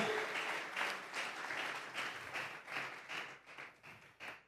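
Worshippers in a church give an offering of applause during a Spanish-language sermon, a fairly faint, distant wash of clapping that pulses and gradually thins into separate claps toward the end.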